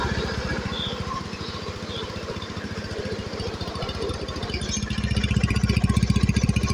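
A rebuilt Honda Beat Pop two-stroke scooter engine idles with a fast, steady, buzzing putter close by, and it grows slightly louder and rougher near the end.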